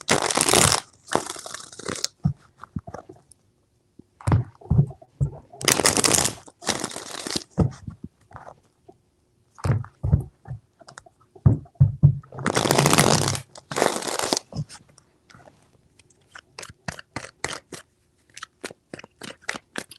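Tarot cards being shuffled in three distinct bursts of crisp riffling, each lasting about a second or two, separated by quieter handling and occasional soft talk.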